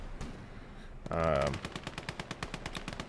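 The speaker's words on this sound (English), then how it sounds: "But you can hear he has anti-tank guns" Anti-tank guns firing in the World War II strategy game Gates of Hell: Ostfront, a single heavy boom followed by a fast, steady run of rhythmic shots.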